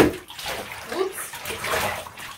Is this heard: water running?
yes